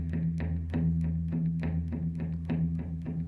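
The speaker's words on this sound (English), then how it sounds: "what you're doing is dividing that beat into three parts" Blues guitar shuffle rhythm split into triplets: a steady run of short, evenly spaced strums in groups of three, muted and fairly quiet, with no talking.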